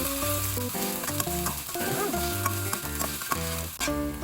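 Eggs for Thai son-in-law eggs fry in a pan over moderate heat, a steady sizzle heard close, overlaid with a background of stepped musical tones.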